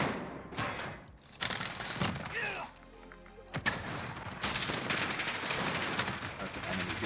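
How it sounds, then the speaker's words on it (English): Gunfire from the Modern Warfare video game crackles in bursts, with a brief lull midway before shots resume densely, while people talk over it. "Why are you shooting at so much?"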